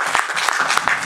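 A short burst of applause, many hands clapping together in a dense, steady patter.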